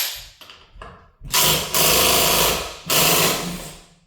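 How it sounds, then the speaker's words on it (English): A basic impact wrench loosens an engine bolt on a Honda Forza 125 scooter with 75k miles. A few short buzzing taps give way to loud, sustained, rattling hammering bursts close by. "Let's just see if my new impact wrench can hit this torque net here."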